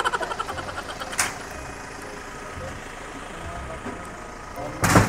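A vehicle engine runs steadily right after a mechanic's repair, a low continuous idle with louder bursts near the start and end, while people talk over it.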